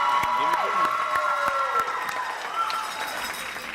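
An audience applauds for a teacher being honored at a Teacher of the Year event, a steady wash of clapping and some cheering that slowly fades, with a voice speaking over it.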